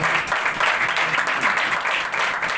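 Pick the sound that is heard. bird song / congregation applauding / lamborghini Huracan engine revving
congregation applauding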